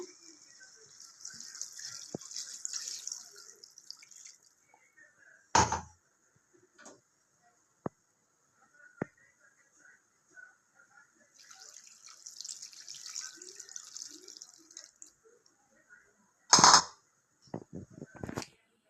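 Water is poured from a tap into a pot of browned chicken curry in a home kitchen, a light trickling stream in two stretches, broken by a few sharp clicks and clanks of the pot and lid.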